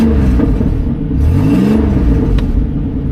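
A turbocharged 2004 V6 Mustang engine runs loud and close, a rough steady rumble with slight swells in revs and a whirring note over it throughout.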